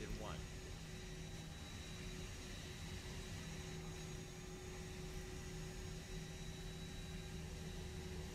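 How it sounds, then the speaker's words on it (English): An A320 jet engine in the X-Plane flight simulator spools up as a steady, loud broadband roar with a constant tonal whine, continuous throughout without a break. "Turn up the engines a little bit so everybody gets to hear."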